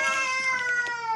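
A cat meows repeatedly in a drawn-out, whiny voice, loud and close, with no talking over it.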